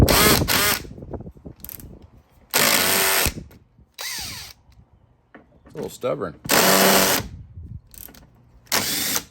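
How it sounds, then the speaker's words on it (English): A cordless drill on its lightest torque setting whirs in several short bursts, stopping and starting as it drives a screw into an aluminum rear door tire rack on a Sprinter van, with someone speaking briefly between bursts. "I got it on the lightest torque on the drill"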